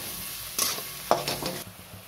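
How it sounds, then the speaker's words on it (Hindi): Ground spices such as turmeric, coriander powder and garam masala frying in hot oil for a hotel-style dal tadka, stirred with a spoon, giving a soft steady sizzle with brief scraping bursts. "सब डाल के भून लेंगे अच्छी तरह से।"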